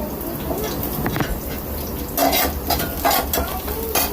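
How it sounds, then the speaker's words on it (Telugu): Broad beans (chikkudukaya) fry in a pan with a steady sizzle, broken by several louder bursts of stirring and scraping, close up and with no talk. "జస్ట్ చిక్కుడుకాయ ఫ్రై చేస్తాను"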